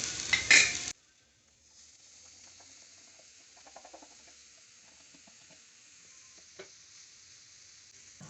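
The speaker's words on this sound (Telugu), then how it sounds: "ఇప్పుడు పొట్లకాయ ముక్కలు వేసాయి." Ridge gourd pieces fry in a pan with a soft, continuous sizzle and light crackles. The sound is fairly quiet and close, following a short loud burst at the start.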